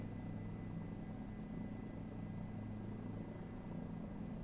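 A Bell 407 helicopter in Microsoft Flight Simulator 2020 gives off a low, steady rotor and engine drone that stays constant and fairly faint throughout, with no talking.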